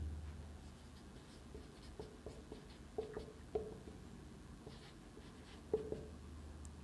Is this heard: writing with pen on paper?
yes